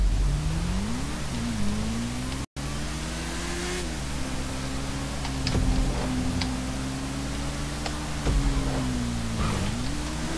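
A motorcycle engine in GTA V drones steadily, rising and falling in pitch as it revs and eases off, loud and continuous with faint ticking, without talking.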